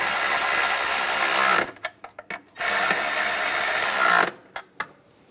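Power tool or ratchet tightening bracket nuts on the engine of a Ram 1500 with a 3.6L V6, two long loud whirring runs, each followed by a few short sharp bursts and clicks.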